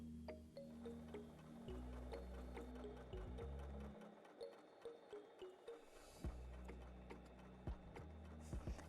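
A heavy-duty sewing machine stitches through sixteen folded layers of fabric at stitch length 4, with a steady mechanical whir and rhythmic needle knocks that pause briefly midway before resuming close and loud.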